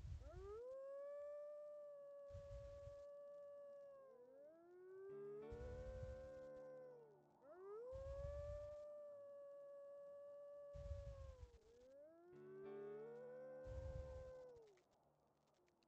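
Wolves howl in the Wolf Quest 3 video game, several long rising and falling howls overlapping in a chorus, with low thumping bursts at intervals underneath, loud and sustained.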